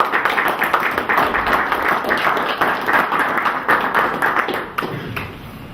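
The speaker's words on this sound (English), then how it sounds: "Tim, give this guy a clap." Applause from a small audience at an International Men's Day gathering: brisk, tapping claps in a steady patter that fades out near the end.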